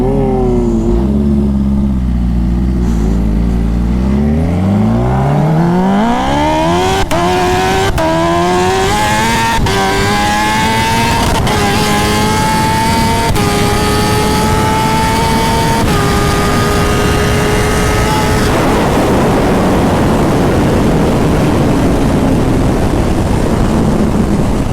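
A turbocharged Kawasaki ZX14R motorcycle accelerates hard down a half-mile race course, its loud engine climbing in pitch through several rapid gear shifts before fading into steady roaring wind noise near the end.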